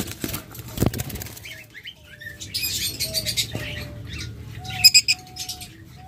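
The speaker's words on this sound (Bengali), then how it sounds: "দেখুন, একদম ক্লোজ রিংয়ের পাখি। এগুলো হলো ইয়েলো কলার।" Young close-ringed yellow collar lovebirds flap their wings in short fluttering bursts and let out sharp chirps and tweets close by, with brief quiet gaps between the sounds.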